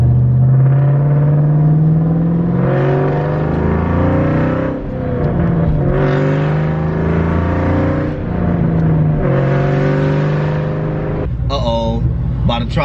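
A pulley-modified Mustang Cobra pulls hard from second gear at about 40 mph, its engine rising through loud, sustained revving sweeps close up for most of the stretch, with brief dips between them.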